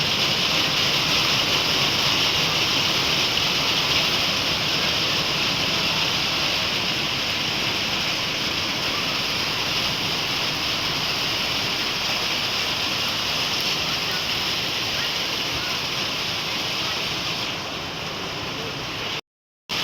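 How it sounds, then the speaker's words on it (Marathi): Steady, dense rain pours down without a break, a constant broadband hiss that fills the whole stretch before cutting off abruptly at the end. "तर लागलाय पाऊस यायला"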